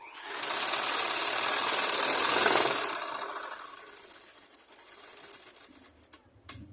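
A sewing machine stitches a blouse with a fast, even mechanical rattle that runs for a few seconds, eases off, then ends in a couple of clicks and handling noises.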